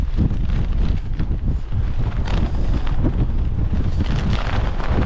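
Strong wind from Storm Bert buffets a mountain camp in a loud, unbroken roar, with gusts rising and falling and rumbling hard against the microphone.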